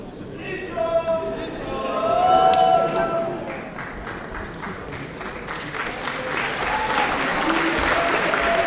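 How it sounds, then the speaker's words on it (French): Applause for graduates at a university diploma ceremony, a steady mid-level clatter of clapping that swells slightly and carries on under murmured crowd voices throughout. "On peut applaudir une dernière fois les diplômés"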